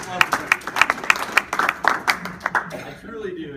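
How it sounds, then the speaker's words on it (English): Scattered applause from a small live audience, a run of individual claps that thins out and fades after about three seconds, with voices faintly underneath. "come on, round of applause."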